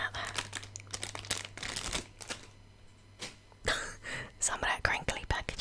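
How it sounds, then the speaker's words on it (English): Crinkly plastic packaging around a squishy sensory toy rustles and crackles in loud, close, irregular bursts as it is handled, with soft whispering in between. "Some of that crinkly packaging is freaking loud."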